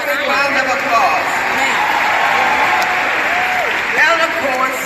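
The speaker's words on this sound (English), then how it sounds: "Give her a big round of applause." Large convention crowd applauding a Congresswoman, loud continuous clapping mixed with cheering while an amplified voice speaks over it through the hall's PA.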